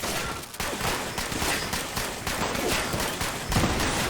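Rapid gunfire rattles out in an online video game, a dense, loud burst of overlapping shots that runs almost without a break, with no talking heard over it.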